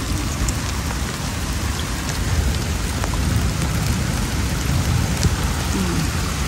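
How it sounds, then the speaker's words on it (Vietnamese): Heavy rain pouring down steadily on a rural water spinach garden near Hanoi, a dense continuous hiss with scattered louder drops and a faint distant rumble of thunder. "Trời mưa to. Mưa to."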